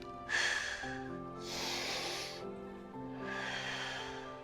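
Three loud, close breaths in a yoga spine extension exercise, a sharp inhale followed by two long hissing exhales, with a faint voice underneath.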